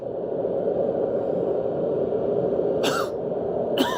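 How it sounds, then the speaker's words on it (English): An infected creature in a video game coughs twice in short harsh bursts near the end, over a constant dense droning game background. "Yep, he's starting to cough up."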